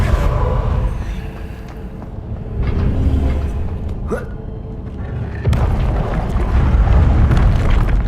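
The Confringo blasting spell from the Hogwarts Legacy video game goes off as deep booming explosions and rumbling impacts, one blast midway and a heavier burst later, loud and close amid continuous game noise.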